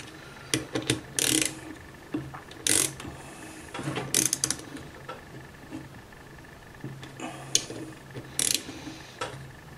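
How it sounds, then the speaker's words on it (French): Bursts of rapid ratchet clicking in several short runs as screws holding a Chinese scooter's oil pump are tightened, with quieter mechanical handling between them, close up and without speech. "un cliquet afin de resserrer nos vis"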